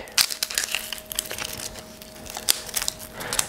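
Dry papery onion skin being peeled back with a knife, giving close, irregular crinkling and crackling with a few sharper snaps.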